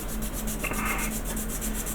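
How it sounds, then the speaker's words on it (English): A sanding stick rubs a plastic LED shroud part for the Bussard collectors on a Mobius Models USS Franklin kit, giving one brief, close scratchy stroke over a steady background hum. "sanding stick"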